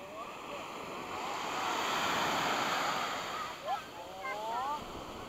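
Surf breaking on the long sandy beach at Asprovalta, Greece, a steady broad wash of waves with wind noise on the microphone, and faint voices briefly audible near the end.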